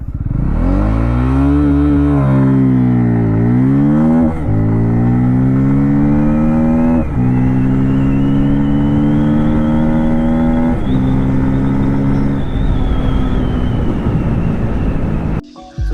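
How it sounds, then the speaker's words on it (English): A 2023 Bajaj Pulsar N250 with dual-channel ABS launches hard and revs loudly up close, its engine note climbing and dropping with several quick upshifts before easing off. "So now let's do a quick acceleration test on the Pulsar N250, and let's start it up."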